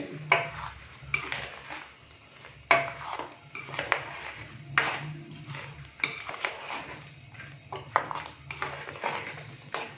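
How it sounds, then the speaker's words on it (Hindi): A spoon scrapes and clinks against a pan while cream is stirred into white mutton karahi, giving close, irregular metallic knocks and soft scraping strokes. "क्रीम डालने के बाद अच्छे से हम इसको मिक्स करेंगे।"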